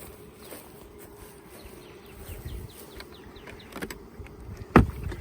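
Honey bees buzz around hives set among cotton on a hot summer day, a steady insect drone with individual bees zipping past the microphone and one loud close pass near the end.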